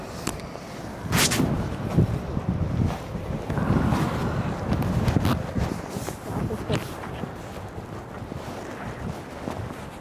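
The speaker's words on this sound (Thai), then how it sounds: "ลมมาสิ" Cold wind buffets a microphone outdoors in Japan at about minus seven degrees, a continuous gusty roar with people talking faintly underneath.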